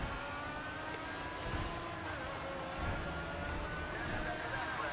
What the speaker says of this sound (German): Ich glaube, das Auto ist jetzt kaputt.